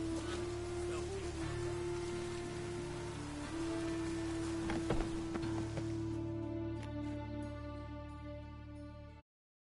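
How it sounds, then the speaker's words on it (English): Steady rain in The Witcher 3 video game patters over a droning tonal background for most of the stretch, then stops abruptly. "Rain was coming."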